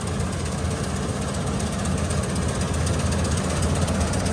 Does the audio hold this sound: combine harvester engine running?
yes